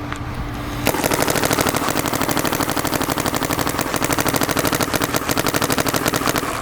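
Planet Eclipse Etha 3 paintball marker fired on semi-automatic, a rapid, steady string of sharp pops after a brief quiet start, loud and close and continuing for several seconds with no talk.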